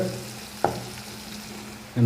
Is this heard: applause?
no